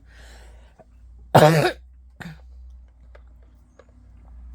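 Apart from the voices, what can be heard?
cough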